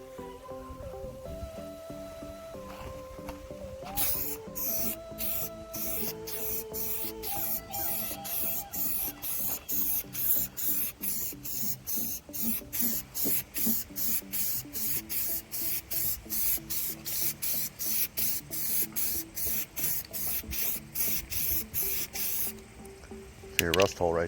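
Aerosol primer sprayed in a light coat onto a truck transmission brace, heard as a long series of close, rhythmic short hissing bursts, with rattling and clicking underneath.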